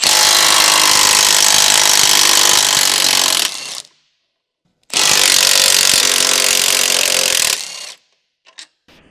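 On a 2007 Honda CR-V, an electric impact wrench with a 14mm deep socket removes the lower control arm rear bushing bolts, rattling loudly and close in two long bursts separated by a second of silence, followed by faint clicks.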